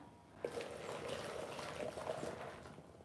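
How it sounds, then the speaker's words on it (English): Hot, already boiled water pours into a cooking pot, giving a soft steady liquid rush with a faint splash at the start, quiet and close. "And then I will add some hot water."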